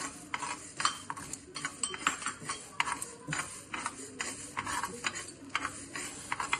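Mustard seeds, fenugreek and whole garam masala frying dry in a pan for chicken pickle, a spoon stirring and scraping in quick repeated strokes over a faint crackle, close and steady.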